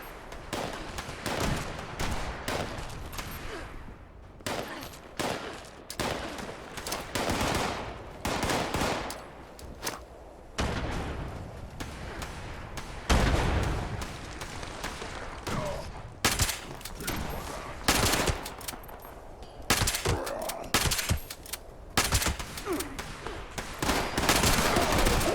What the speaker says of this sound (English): He's just blindly shooting.